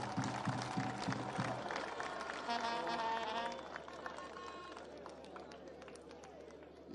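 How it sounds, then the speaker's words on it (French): Audience at a university inauguration ceremony in Kananga clapping, a steady wash of applause at moderate distance that thins out toward the end. "Applaudissements, s'il vous plaît."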